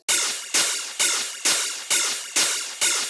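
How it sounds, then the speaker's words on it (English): Crash cymbal sample run through a heavy flanger, struck seven times in a steady pulse, each hit a bright, washy burst that swirls and decays before the next one lands. "And then I have here this crash as well."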